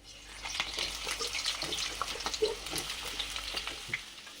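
Potatoes fry in hot oil in a pan with a steady close sizzle, broken by irregular crackles and stirring scrapes.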